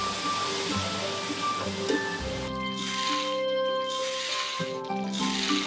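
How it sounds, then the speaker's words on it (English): Hot oil poured over red chili flakes, bean sprouts, chicken powder, MSG, soy sauce and salt sizzles in a steady, hissing crackle, close and fairly soft, with no talking. "With a sizzle, the seasonings release their respective aromas."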